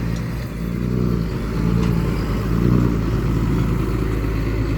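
Diesel engine of a Kubota L 5018 tractor running steadily nearby, a deep continuous drone that swells slightly as it revs, with a possible faint turbo whistle above; no talking.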